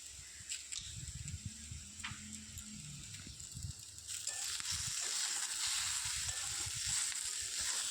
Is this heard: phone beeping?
no